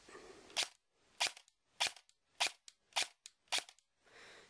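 G&P MOE carbine airsoft rifle firing: six sharp, snappy shots spaced roughly half a second apart, each a crisp crack with a brief rattle, fairly quiet overall with silence between them.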